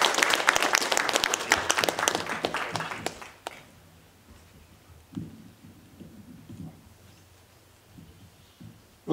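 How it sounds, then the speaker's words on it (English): A conference audience at a panel discussion applauds as a moderator is welcomed, with dense clapping for about three seconds that quickly fades into scattered claps and quiet room noise. "Please give Bob a round of applause."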